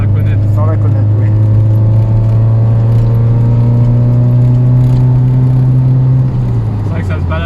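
A FIAT Ritmo 105 TC drives along with a loud, steady engine drone heard from inside the cabin. The note holds level, then drops briefly as the car shifts. A person talks over the engine.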